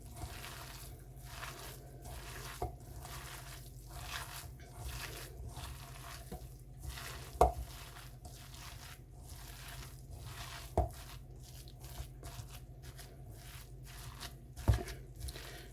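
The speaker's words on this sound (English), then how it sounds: "Now see if I squish this together, starting to get a reasonably loosely formed dough" Soya mince meatball mixture is squished together by hand, making soft, wet, rhythmic squelching pulses that repeat steadily at close range, with a few sharper taps in between.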